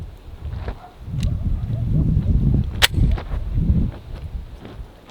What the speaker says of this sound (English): Glock 22, shooting this 165 grain hollow point. See what it does, this watermelon.